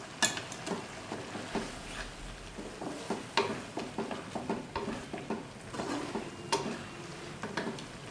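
Minced keema with ground spices frying in a pan while being stirred steadily, giving a continuous low sizzle broken by frequent scraping clicks of the spoon against the metal, close and fairly loud, with no talking.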